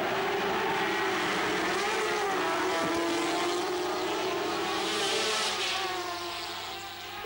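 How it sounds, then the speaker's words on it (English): Four-cylinder 500cc sidecar racing engines roar continuously at the 1991 Sidecar Grand Prix at Laguna Seca, a loud sustained high-revving drone that shifts in pitch and fades slightly at the end. "these outfits use 500cc four-cylinder engines just like the solos"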